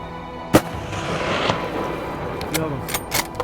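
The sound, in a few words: rifle gunshot hunting mountain goat in Yukon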